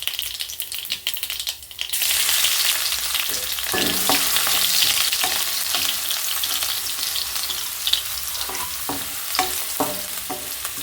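Mustard seeds crackle and spatter in hot oil, a dense continuous sizzle with sharp popping bursts scattered throughout, close and fairly loud.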